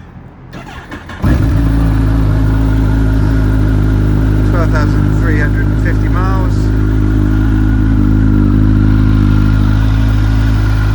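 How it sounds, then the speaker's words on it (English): A 2011 Kawasaki ZZR 1400 ABS motorcycle cranks and fires after a brief quiet start, then settles into a loud, steady, close idle while someone speaks briefly over it. "So fire the bike up."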